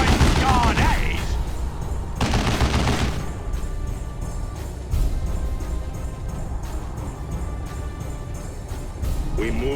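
Rapid bursts of gunfire in a Warhammer 40K Dawn of War 2 battle, sharp cracking volleys with heavy clusters near the start and around two seconds, then scattered shots continuing over background combat noise.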